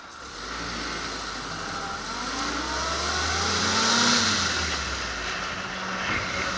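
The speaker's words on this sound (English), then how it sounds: "Engine's being back driven and the transmission's being back driven." A rebuilt Ford GPW jeep driving along with the engine and transmission being back driven, a steady mid-pitched engine drone with gear whine that rises and falls gently, moderately loud and alone without talk.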